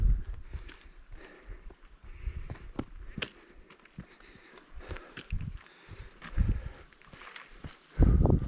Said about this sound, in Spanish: Es con caballos